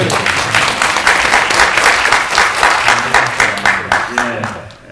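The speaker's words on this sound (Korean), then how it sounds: "박수 보내주시죠" A large audience at a crafts policy forum applauding steadily and loudly, the dense clapping easing off slightly near the end.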